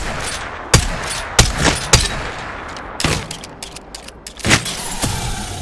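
Sharp, loud gunshots ring out in a video game firefight, about a dozen separate cracks spread irregularly, some in quick pairs, with quieter rustling between them and no talking.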